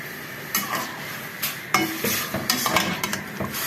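A boiling mango juice mixture with cardamom powder is stirred in a pot, with repeated scraping strokes of the spoon over a steady bubbling hiss, close and continuous.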